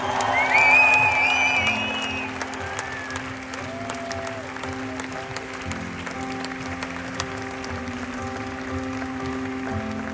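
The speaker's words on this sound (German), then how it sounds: "Grossen Applaus am Keyboard" Open-air concert crowd at a festival applauding a band's keyboard player, a dense wash of clapping and scattered whoops that peaks loudly at first then settles into softer sustained applause, with faint whistles and tones underneath.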